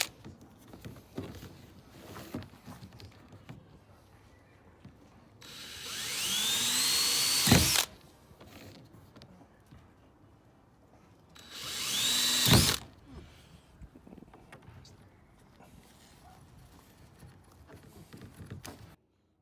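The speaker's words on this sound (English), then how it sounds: "And now I'll drill them in." A power drill bores holes into a DIY chicken waterer in two sustained bursts, each whining for a couple of seconds at close range. Quieter handling noises fill the gaps between them, and nobody speaks.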